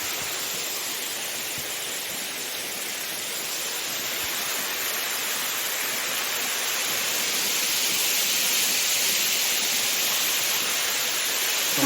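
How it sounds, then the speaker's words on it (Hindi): Waterfall in dense jungle in Meghalaya, a broad steady hiss of falling water that fills the whole scene, even and continuous, swelling slightly louder toward the end with no voices. "घनघोर जंगल है और बीच में ये वाटरफॉल है"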